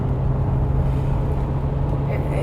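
The 6.9-litre V8 of a Mercedes 450 SEL 6.9 drones as a steady, dense low hum from inside the cabin, loud and constant with a strong low tone and a faint voice underneath.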